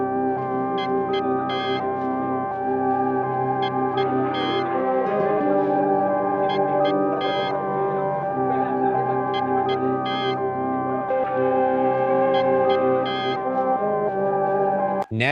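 Sample loop for a grimy boom bap beat built from layered organs, guitars and flutes, sustained tonal chords with a steady repeating pattern, loud and continuous with no drums or talk.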